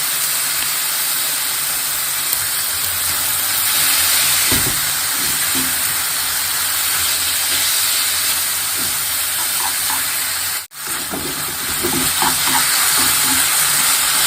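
Pork and chili stir-frying with oyster sauce in a wok, a steady loud sizzle and hiss with scraping stirs of a spatula throughout, close up and without talk.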